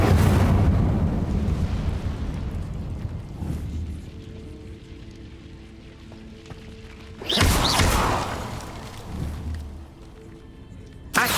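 Incendio fire spell bursts in Hogwarts Legacy: a loud fiery blast opens, decays into a quiet hum, then a second sharp eruption hits and fades, with a small thud at the end.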